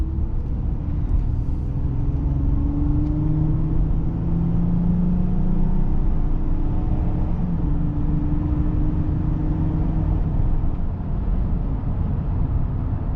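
A high-mileage 2012 Honda Pilot EXL SUV with a V6 engine accelerates on a freeway, a steady low engine drone rising in pitch under constant road rumble heard from inside the cabin.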